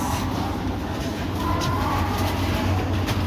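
A Vande Bharat Express train rumbles by with a steady, dense roar that holds the whole moment without a break, broad and fairly close, with faint bird calls somewhere in the background.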